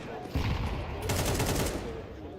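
Rapid gunfire from a Counter-Strike 2 esports quarterfinal match, a dense burst of shots over a couple of seconds mixed under a caster's voice.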